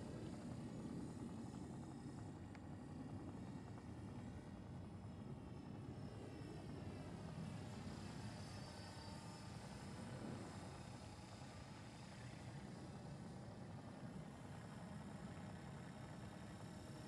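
A Trex-500 RC helicopter flies steadily overhead on its maiden flight after a crash, its rotor and motor making a continuous whine and drone at moderate distance with no talk.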